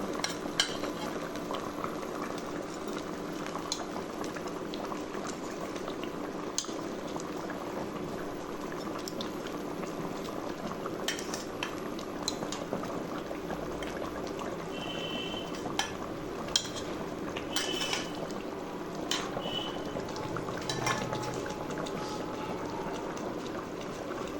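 Mrigal fish curry with kohlrabi and potatoes simmers in a pot, giving a continuous soft bubbling and gurgling with a few faint clinks of a lid or utensil, steady and unaccompanied throughout.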